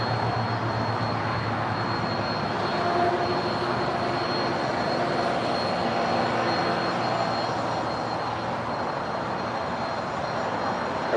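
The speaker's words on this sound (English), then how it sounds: "that is United Airlines Flight 515 coming in from JFK. It's a 757-200" A United Airlines Boeing 757-200 arriving from JFK lands at LAX, its jet engines a loud, steady broadband roar that holds evenly for about eleven seconds with no talk.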